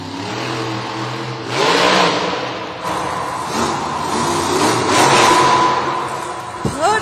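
The Black Pearl monster truck's engine roars and revs in a stadium arena, surging in repeated loud bursts over crowd noise, with a sharp burst near the end.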